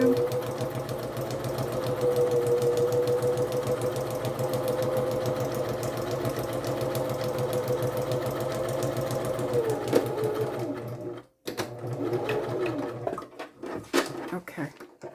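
A sewing machine stitches across a book page in a fast, steady mechanical rattle that runs for about ten seconds, then stops. Brief clicks and handling noises follow, and a person talks over parts of it.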